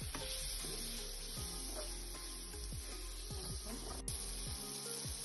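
Salt and green chilli are stirred together in a hot pan, with a steady sizzle and frying hiss under repeated scraping strokes of the spoon, close and fairly quiet.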